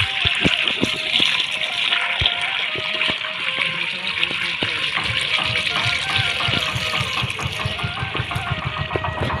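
Water gushes and flows steadily across a farm field in Himachal Pradesh for irrigation, a continuous, fairly close rushing with occasional knocks and clicks.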